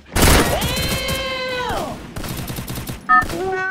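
AK-47 fire in the mobile shooter game Free Fire comes as a loud, rapid burst of shots under tonal game effects, then a sharp shot or two near the end.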